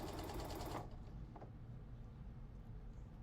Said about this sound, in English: And then we just want to stitch around.